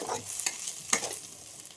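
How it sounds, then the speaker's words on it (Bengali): Fried potatoes and cauliflower being stirred into an egg curry in a pan, two sharp spoon scrapes over a soft low sizzle, close and fairly quiet, without any talking. "আর ভেজে রাখা আলুটাও দিয়ে দেবো এখন আমি ভালো করে মিশিয়ে নেব"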